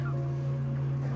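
Chickens packed into a large barn holding around 40,000 birds, a dense murmur of clucking over a steady low mechanical hum, continuous and close for a brief moment.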